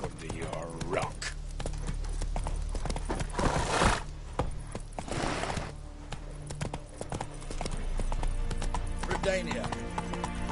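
Roach, the horse in The Witcher 3, clip-clops along in steady hoofbeats with an occasional whinny, layered under game music and someone talking over the top.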